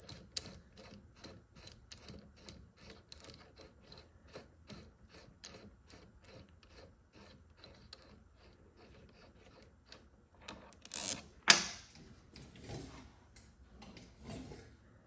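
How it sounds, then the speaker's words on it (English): A specialty tool installs a bearing race on a Harley Bad Boy motorcycle, giving a rapid series of close metallic ratcheting clicks with a brief louder clatter near the end. "There's a specialty tool you have to use to install this race."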